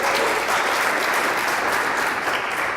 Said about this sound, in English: Yeah, clap that up.